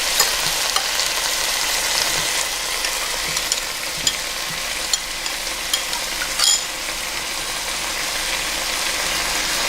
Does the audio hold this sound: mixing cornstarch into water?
yes